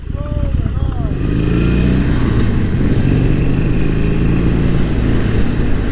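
Motorcycle engine droning steadily and loudly during a ride, with constant rumble and wind roar close up, and a brief rising whine at the start.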